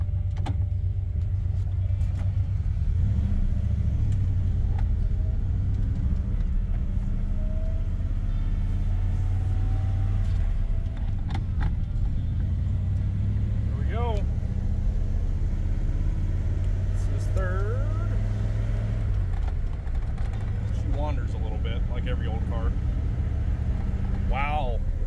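A 1953 car with a flathead engine cruising on the highway: a constant low engine drone and road rumble fill the cabin, with brief squeaks and a voice speaking now and then over it.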